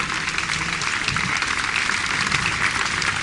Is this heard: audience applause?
yes